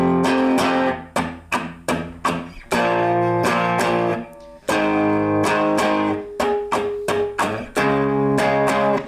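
An electric guitar strums chords slowly, with rhythmic chord hits and muted chops in a steady pattern, loud and close with no voices.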